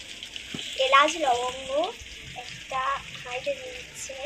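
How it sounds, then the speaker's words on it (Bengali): Potatoes fry in mustard oil in a wok, a steady close hiss of sizzling under a person talking throughout. "আমি কড়াইতে সর্ষের তেল দিয়ে দিলাম দিয়ে আমি আলুটা এখন ভেজে নিয়েছি"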